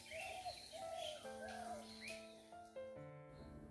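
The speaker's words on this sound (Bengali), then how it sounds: "তাই এখানে দাঁড়িয়ে আমি পাখির ডাক উপভোগ" Birds in a village call and chirp in short repeated phrases, faint and a little distant, with a steady sustained tone beneath them and no talking.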